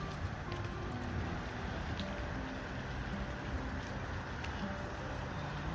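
Steady rain falls during a visit to a safari park in the Netherlands, an even, dense hiss of drops striking surfaces close by, unbroken and without voices.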